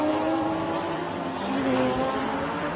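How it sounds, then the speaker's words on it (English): Race car at a motorsport event smoking its front tires, a continuous loud engine roar and tire noise with steady tonal whine, no talk. "Vantana Motorsports smoking his front tires out."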